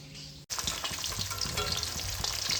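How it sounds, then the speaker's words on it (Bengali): Chitol fish frying in a pan, heard as a loud, dense sizzle that starts abruptly after a brief lull and then crackles steadily close up. "এখন আমি ভেজে নিচ্ছি শীতল মাছ চিতল মাছ"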